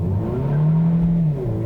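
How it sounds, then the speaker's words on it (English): A 2018 Kia Niro Plug-in hybrid in sport mode accelerates hard from a stop, its engine droning steadily and rising in pitch, close and continuous with no talking. "I'm going to switch it over to sport mode, and we're going to floor it from this stoplight"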